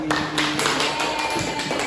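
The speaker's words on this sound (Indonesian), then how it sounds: "tepuk tangan untuk Mas Adi." A classroom group claps hands during a peer-teaching lesson, a brief burst of scattered, moderately loud claps from several people, with a faint steady tone running underneath.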